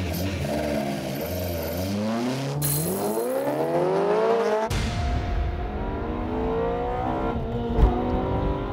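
A BMW M3 race car accelerates hard up a mountain pass, engine note climbing steadily through the gears with a sharp upshift, then continuing at high revs, loud and close, with a faint squeal near the end.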